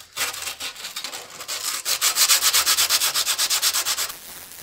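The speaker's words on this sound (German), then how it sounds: "ich schleife jetzt hier einmal kurz an." Rust being sanded off an exhaust flange on a BMW E12 525, a steady run of rhythmic rasping strokes that grow louder and quicker before stopping, close up with no talk.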